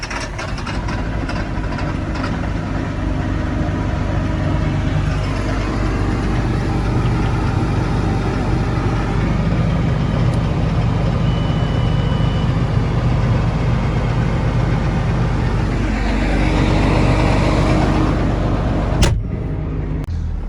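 Farm tractor engine warming up at idle, a steady low rumble that holds evenly and close for the whole stretch, with a slight change in tone and a short sharp noise near the end.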